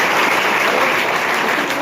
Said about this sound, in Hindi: एक बार उस बच्ची के लिए जोरदार ताली होनी चाहिए।